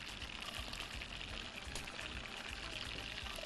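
Broth is poured into a pot of freekeh soup, a faint, steady liquid pour with soft splashing throughout.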